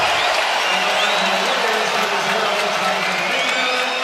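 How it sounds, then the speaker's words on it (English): An arena crowd roaring during an NBA playoff game between the Timberwolves and Warriors at a free throw, a loud continuous wash of cheering and whoops with a few high whistles, unbroken from start to finish. "listen to the crowd"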